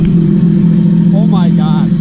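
Sea-Doo RXT X 300 jet ski from 2018, fitted with a Riva Racing Stage 1 kit, running loud and steady at a low idle drone, close by, with a voice speaking briefly over it.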